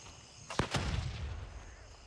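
A thrown grenade detonates in the shooter game Gray Zone Warfare, a sharp, loud double blast followed by a rumbling decay, close by.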